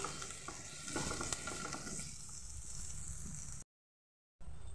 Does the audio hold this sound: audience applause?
no